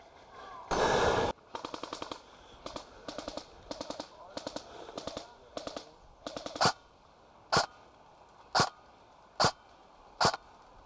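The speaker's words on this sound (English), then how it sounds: "Lay me down some cover and fire, Torr." Airsoft guns firing covering fire at an outdoor game: a long burst, then rapid clusters of sharp pops, then single spaced shots, all close and loud, with shouting between shots.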